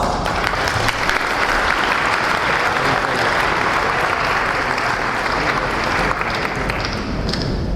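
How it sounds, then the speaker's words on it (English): A crowd at a celebration marking a decade of Chabad of Rechavia gives a long, dense round of applause, steady and loud throughout with faint voices mixed in. "A big round of applause."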